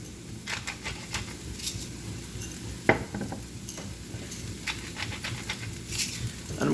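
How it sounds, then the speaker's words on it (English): Peppers and chives sautéing in a pan for an omelette: a soft, low sizzle under scattered utensil clicks and light scraping, with one sharper knock in the middle. "And I'm going to allow that to saute."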